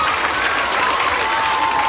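A studio audience at a 1991 game show claps and cheers in a dense, continuous burst of applause that fills the entire brief moment.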